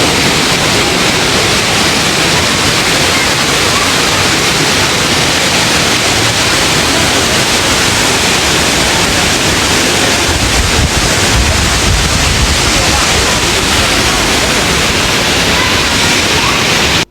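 A loud, constant roar of rushing water from Fukuroda Falls in Japan fills the whole stretch, steady and unbroken, with some wind buffeting the microphone.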